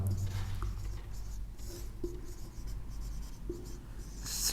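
Chalk or marker scratching across a classroom board during a lesson on transformers, a steady scraping stroke texture with a few brief taps, close and continuous over low room hum.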